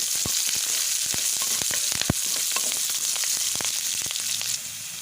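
Chopped onion, curry leaves and mustard seeds frying in hot oil, a loud, close sizzle peppered with frequent sharp crackles and pops throughout.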